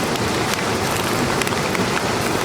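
Heavy rain pours down in a dense, constant roar with no letup and no voices.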